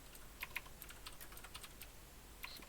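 Rapid keystrokes on a computer keyboard during a programming session, with irregular clusters of light clicks and short pauses, soft and close against a quiet background.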